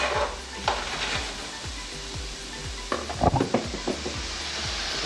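Cabbage, bok choy and saltfish sizzle steadily in a hot pan over low-to-medium heat while a utensil stirs and scrapes against it, with occasional clinks, close by.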